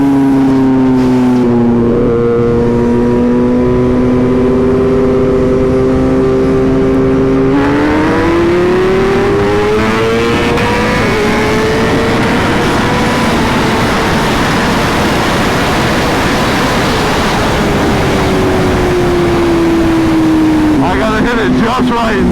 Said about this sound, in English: I think we're gonna get a second gear pull in as well